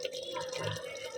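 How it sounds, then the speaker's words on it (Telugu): Chicken and water bubble and simmer in a clay pot at a village cooking spot, a soft, steady gurgle heard close up. "ఉడుకుతుంది నీళ్ళు, చికెన్ వాటర్."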